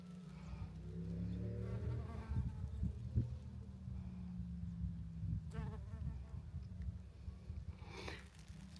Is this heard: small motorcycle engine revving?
no